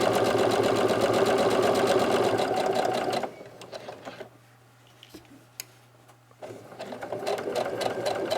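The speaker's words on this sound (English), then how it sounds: "we're going to go ahead and sew along the outer edges" A sewing machine stitches the outer edges of a fabric facemask in a fast, steady, close whir, pauses for a few seconds of quiet handling, then starts stitching again.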